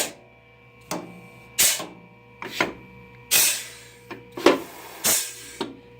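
Pneumatic bar clamps on a Biesse Forecon 51 horizontal and vertical boring machine actuate one after another, producing a series of sharp, close thumps and short air hisses at irregular intervals over a low machine hum.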